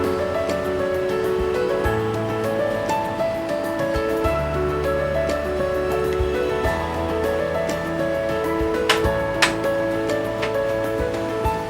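Water boiling in a cooking pot with bay leaf, cloves and oil for egg biryani, giving a steady, continuous bubbling hiss throughout, with a faint steady tonal background underneath.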